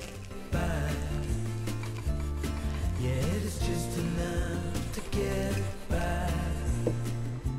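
A knife saws through a cake layer containing crunchy nut brittle, giving a steady gritty rasping that runs almost the whole time over background music.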